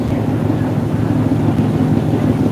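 A heavy ferry engine drones with a steady, loud low rumble and no pauses, filling the whole space, aboard an evening ferry to Koh Chang, Thailand.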